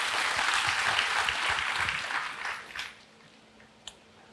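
Church congregation applauding, a dense burst of clapping for about two and a half seconds that fades out, followed by near silence and a single faint tap.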